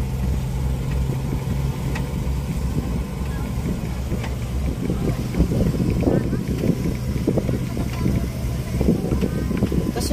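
Strong wind buffeting the microphone during a women's motorcade through open farm fields in the Philippines, a constant roar mixed with vehicle engine drone, with people talking over it.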